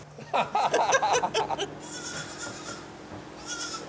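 Goats on a goat dairy farm bleat close by in a quick burst of overlapping cries, followed by quieter intermittent bleats.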